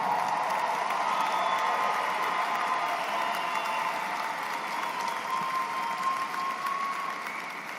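Large graduation ceremony crowd applauding steadily for the full stretch, a dense, sustained wash of clapping that eases slightly toward the end.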